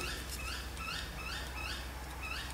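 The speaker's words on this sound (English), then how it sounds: "I've got a bird going, carrying on outside now." Outdoors beyond a room where paper dolls are being cut, a bird sings a faint, distant series of quick repeated chirping phrases over a steady background hiss.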